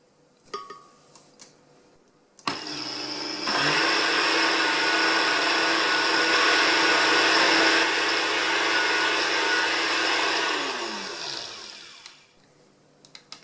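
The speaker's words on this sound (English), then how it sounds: "So I've ground up the psyllium husks for about 2 minutes." A blender starts abruptly and grinds psyllium husks into powder at a loud, steady whir for several seconds, then winds down and stops, with faint clinks before and after.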